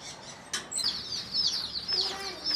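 High, shrill bird calls over faint background rustle, close and somewhat scattered, like agitated chicken clucks and squawks.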